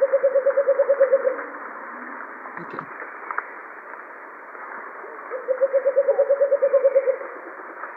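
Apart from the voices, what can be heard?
call of the bleeding heart dove, played recording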